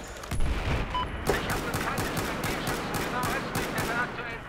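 Pistol fire in Battlefield 4 multiplayer, a string of quick, evenly spaced shots at a fast rhythm following a louder opening crack, with someone talking over it.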